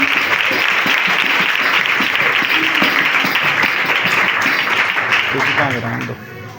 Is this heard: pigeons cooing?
no